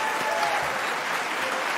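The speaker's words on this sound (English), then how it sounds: "one more round of applause for Marty Leonard" Audience applause at a Faculty of Science university convocation, a steady wash of many hands clapping from a large crowd, filling the short moment evenly.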